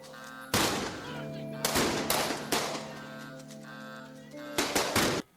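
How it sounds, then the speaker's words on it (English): Sharp bursts of gunshot sound effects within a rap song, in rapid volleys, play over a musical backdrop with sustained tones, loud and close. "I was just sitting there waiting for the gunshots to end."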